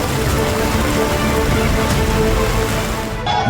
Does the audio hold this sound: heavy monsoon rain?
yes